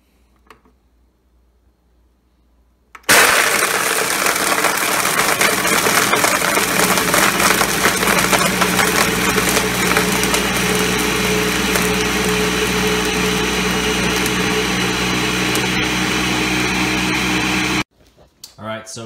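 A blender crushes ice for a snow cone. After a quiet start, a loud, steady, close whirring grind runs for about fifteen seconds without a break, then stops suddenly.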